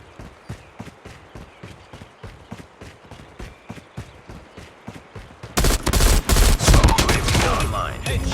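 Call of Duty Mobile M16 assault rifle fire: evenly spaced single shots crack in a steady rhythm, then a denser, louder stretch of rapid gunfire takes over near the end.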